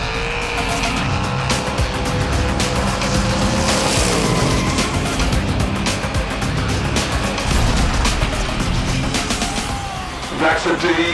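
Hot Wheels diecast cars race down a track: a dense, continuous rolling rumble with rattling clicks and ticks, loud and close for several seconds, then a few sharp clacks near the end.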